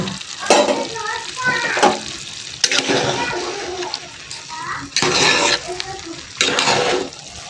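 Meat added to a pot for bhuna khichuri, with bursts of loud sizzling frying and stirring that swell and fade in several waves, with a voice speaking between them.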